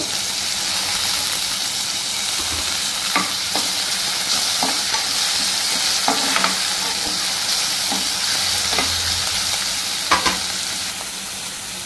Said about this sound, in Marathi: हा कांदा घालतो आणि हे चांगलं परतून घ्यायचं।